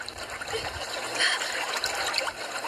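Water from a stream trickles and burbles steadily nearby, with small splashes and gurgles throughout and no talking.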